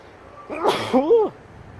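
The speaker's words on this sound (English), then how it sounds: "I have to sneeze right now" A single sneeze bursts out at close range on a downtown street in Goldsboro, North Carolina, a sharp breathy blast followed by a short voiced trailing sound, with quiet background before and after.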